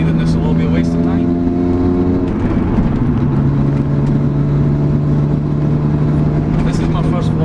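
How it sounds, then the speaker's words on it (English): A steady, rumbling Toyota Celica exhaust drones throughout, its low tone shifting slightly partway through, with road noise and a voice talking over it. "if the exhaust is too loud and you can't really hear me"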